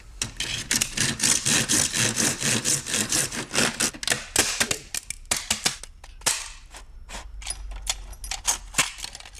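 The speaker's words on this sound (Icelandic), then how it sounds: "Sög." Hand saw cutting through wood, a fast run of rough rhythmic strokes that slows into spaced, separate pulls near the end, close and fairly loud with no talk over it.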